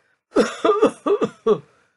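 A narrator's voice imitates an old man's coughing in a Greek Christmas audiobook story: four rough, throaty coughs in quick succession, close and clear.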